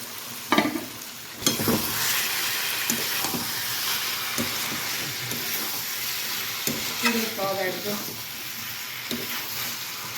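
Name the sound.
prawns (chingri) frying in pan for dopeyaja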